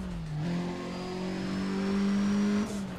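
Race car engine in Need for Speed: ProStreet on a Nevada highway, revving hard through very short gears with quick rising pitch sweeps and a gear change near the end, loud and close.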